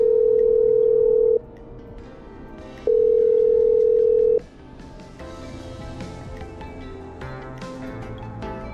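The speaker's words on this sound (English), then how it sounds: "I'm dialing." Telephone dialing in the video game Killer Frequency: two long steady tones, each about a second and a half with a pause between, then quieter line noise and faint clicks.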